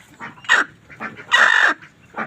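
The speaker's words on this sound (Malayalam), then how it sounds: "മറ്റേ കോഴി കറുത്ത കോഴിയാണ്" Domestic chickens cluck close by in short bursts, with a louder, longer squawking call in the middle and several quick clucks around it, and no talk.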